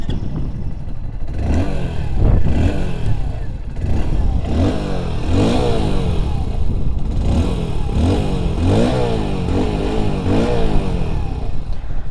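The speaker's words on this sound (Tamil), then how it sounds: "நமக்கு அந்த ஸ்ப்ளெண்டரில் வரக்கூடிய அதே ஐகானிக் சவுண்டு, அதே எக்ஸாஸ்ட், அந்த நோட் தான் வந்துட்டுருக்கு" A 2025 Hero Splendor Xtec 2.0 BS6.2 motorcycle runs at idle with a steady, loud, close exhaust note and small rises in revs, while someone talks over it.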